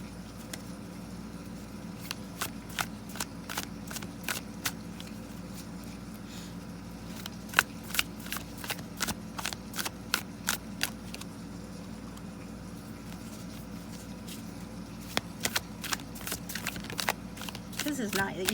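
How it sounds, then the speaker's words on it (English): A tarot card deck is shuffled in repeated quick bursts of crisp riffling clicks, heard close up over a low steady background hum. "This is not the easiest deck to shuffle"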